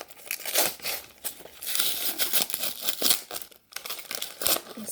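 Crinkling and tearing of taped paper wrapping pulled off a book package, with bursts of crumpling and ripping in an irregular rhythm, close and fairly loud with brief pauses.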